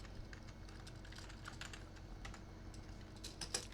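Code being typed on a computer keyboard, quiet clusters of quick key clicks in an uneven rhythm, close but faint, with a slightly louder tap near the end and no talking.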